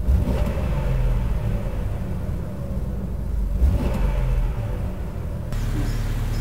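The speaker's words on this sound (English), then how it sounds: "Engine runs perfect." A lifted Jeep Wrangler TJ on 35-inch BFG tires with its engine running, a loud steady low rumble with slight rises and dips in revs throughout, close by and with no talking.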